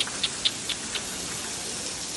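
Heavy rain makes a steady, dense hiss that fills the whole stretch evenly, with a few faint ticking taps near the start and no voices.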